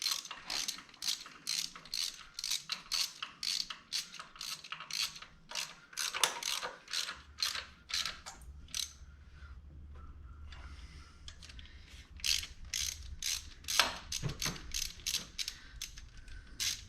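A ratchet clicks steadily as it snugs exhaust manifold bolts on a Dodge Cummins diesel during an aftermarket manifold install, quick bursts of pawl ticks in repeated runs with a brief lull midway, close and clear.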